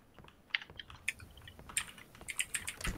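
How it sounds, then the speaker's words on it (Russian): Keys on a Razer mechanical keyboard clack in short irregular bursts of sharp, fairly quiet typing, with no talk. "это Стасоныч у нас с такой хорошей клавой механической"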